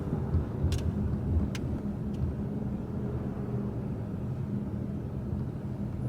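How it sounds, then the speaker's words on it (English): A car moving in town gives off a steady, even low rumble of engine and road noise throughout, with no voices over it. "Sorry, that's my car."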